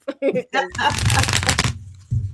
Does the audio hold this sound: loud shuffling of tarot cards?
yes